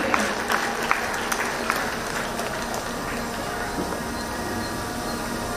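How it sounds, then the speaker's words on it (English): Outdoor crowd at a junior school annual sports meet applauds the event staff, a steady diffuse patter of clapping with a few sharper claps early on, heard from a moderate distance amid ambient noise. "a big round of applause for all the staff who had managed, who had organized this event"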